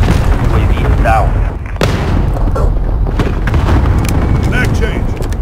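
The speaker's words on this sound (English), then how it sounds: "Friendly cluster strike inbound." Cluster strike explosions rumble across the Suldal Harbor map in Call of Duty Modern Warfare (2019), heavy booms and thuds landing in a loud sequence alongside gunfire, with radio-style voices speaking over the battle.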